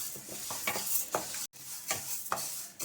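Urad dal is roasted in a pan for an instant chitranna powder, with repeated soft scraping stir strokes and a faint dry sizzle up close, briefly cutting out midway.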